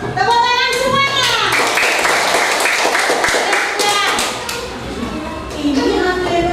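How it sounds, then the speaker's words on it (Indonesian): Children in a classroom clap their hands together in a loud, dense burst of rapid claps, mixed with young voices, with the clapping thinning out before a brief final flurry. "Tepuk tangan semuanya."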